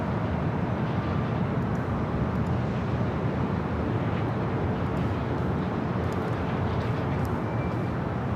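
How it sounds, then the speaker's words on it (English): A WestJet Boeing 737-700 arriving at LAX from Vancouver produces a steady, broad jet roar, continuous and fairly loud throughout with no talk over it. "Next arrival here on the north side is WestJet Flight 1696, coming in from Vancouver in a 737-700"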